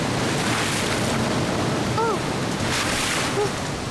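Cartoon waterfall in a Jungle Book Mowgli jungle scene, a steady, broad rushing roar of falling water that fills the whole stretch, with a few faint high squeaky tones briefly over it.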